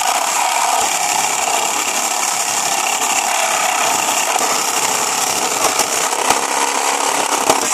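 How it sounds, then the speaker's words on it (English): A hand saw rasps steadily and noisily through a wooden pallet, a continuous harsh grinding with occasional sharp clicks. "you want the saw to do the work"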